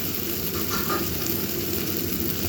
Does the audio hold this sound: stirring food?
yes